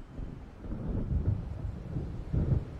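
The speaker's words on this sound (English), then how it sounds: "It seems there's a storm coming." Deep thunder from an approaching storm in the video game Alan Wake rolls and rumbles low and heavy, swelling in two distant booms amid wind and faint rain.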